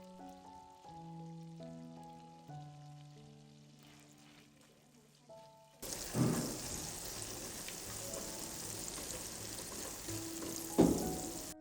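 Chicken breast frying in a pan, a steady close hiss and crackle that begins partway through after a stretch of soft tonal music, then continues at an even level with a brief louder burst near the end.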